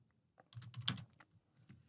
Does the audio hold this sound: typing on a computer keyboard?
yes